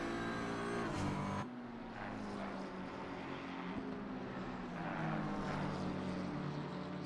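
Racing cars pass in a sim racing game, their engines droning at steady pitch with one car dropping lower as it goes by. The engine noise is continuous and at moderate volume, with no talking.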